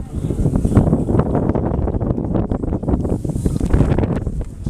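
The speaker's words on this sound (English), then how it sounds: "It's gusting again." Gusting wind buffets the microphone at an outdoor football match between Stratford Town FC and Solihull Moors, a loud, continuous low rumble that swells and eases throughout with no speech.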